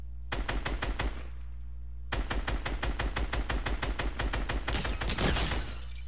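Pistol and SCAR rifle gunfire in the video game Fortnite: two long bursts of rapid, loud, evenly spaced shots separated by a short gap.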